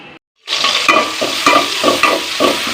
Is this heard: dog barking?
no